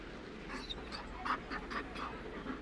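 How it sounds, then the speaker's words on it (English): Mabari war dog panting in Dragon Age: Inquisition, a quick rhythmic series of breathy huffs at moderate distance over a steady low background hum. "You found a dog?"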